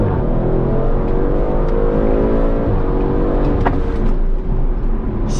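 An Audi RS5-R with an ABT-tuned V6 engine revs loudly and steadily from close by, the engine note sweeping up and down in pitch with no voices over it.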